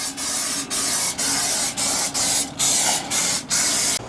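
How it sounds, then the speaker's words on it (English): A can of canola oil spray hisses in about eight evenly spaced bursts, each roughly half a second long, as the inside of an insulated cabinet smoker's cooking chamber is coated. "I am going to spray the inside of that area as well as the cooking chamber, the inside of the doors, the entire thing with some canola spray"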